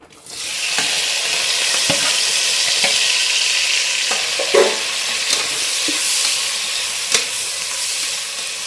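Onion, tomato, green chilli and curry leaves frying in oil for egg biryani, a loud continuous hissing sizzle throughout, with occasional soft clicks and scrapes of stirring close by.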